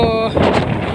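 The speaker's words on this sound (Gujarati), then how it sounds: "પવન તો અત્યારે બહુ કાઢે છે." Strong wind buffets an open chilli field, roaring across the microphone as a loud, steady rush for the whole moment, with no voices.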